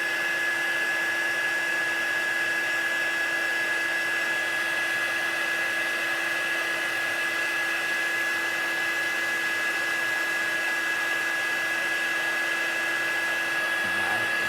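Heat tool running steadily for embossing, melting embossing powder on cardstock: a constant whirring airflow hum with a fixed tone, held without break and alone throughout.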